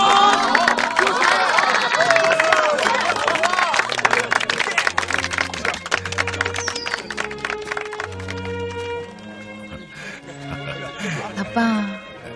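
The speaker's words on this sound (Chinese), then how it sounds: "现在，我们大家来为美丽的新娘鼓掌。" At a wedding ceremony, guests applaud and cheer the bride as she walks in, with dense clapping that fades over several seconds beneath music and voices.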